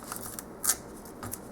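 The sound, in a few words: score tape being applied to chipboard edge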